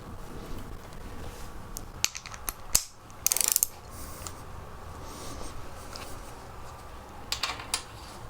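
A torque wrench clicks and ratchets in short bursts while bolts are tightened during a Yamaha TZR motorcycle rebuild, with nearby rapid ratchet pawl clatter among quiet workshop handling sounds.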